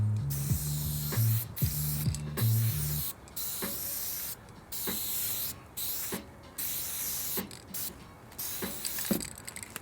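Bursts of hissing spray paint, several short blasts with pauses between them and a couple of faint clicks.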